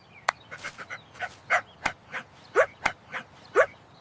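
A dog barks repeatedly in short, sharp yips, about a dozen in quick succession, fairly close and clear with no talking.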